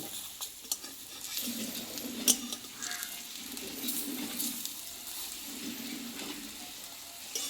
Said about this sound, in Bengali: দেখো কিন্তু কড়াইয়ে লেগে যাচ্ছে না কত সুন্দর ভাজা হচ্ছে